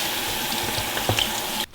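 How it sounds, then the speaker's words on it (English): Cold tap water running steadily over drained rigatoni pasta in a kitchen sink, a loud continuous splashing rush that cuts off abruptly at the end. "Then I'm gonna rinse it with cold water just to kind of stop the cooking and cool it down a little bit."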